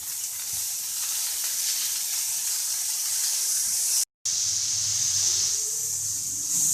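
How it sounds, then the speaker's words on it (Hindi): Sugar fries in a pan for Afghani pulao, giving a steady bright hiss and sizzle that runs continuously, close and moderately loud, with one brief dropout and faint scraping underneath. "हल्का सा फ्राई करेंगे इसे अब"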